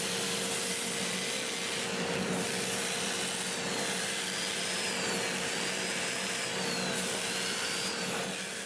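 A dust collector runs while wood is sanded on a wood lathe turning at about 400 RPM, a steady loud whooshing roar with a faint tonal hum and soft rubbing throughout.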